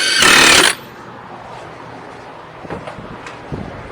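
A power tool snugging brake caliper bolts on a Dodge Charger Scat Pack, one loud buzzing burst under a second, followed by faint clanks and quiet.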